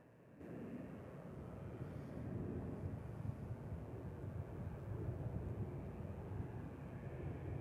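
A jet airliner takes off from runway 36 right at Dallas/Fort Worth airport, heard as a steady, broad, loud engine roar that swells slightly and holds throughout, with no talk.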